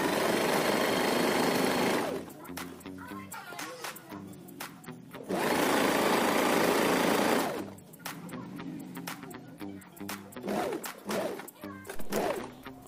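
Sewing machine stitching the front of a headscarf, with two long bursts of steady, buzzing machine hum and then short, stop-start stretches of stitching, with fabric handling noises in the quieter gaps.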